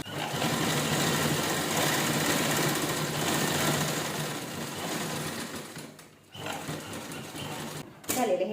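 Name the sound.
sewing machine stitching a folded old-shirt towel bag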